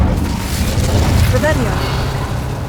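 A fire spell cast in the Hogwarts Legacy video game bursts out as a booming, whooshing blast with short rising crackles, set against a steady rumble of game ambience and music.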